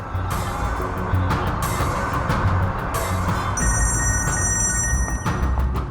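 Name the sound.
telephone ringing unanswered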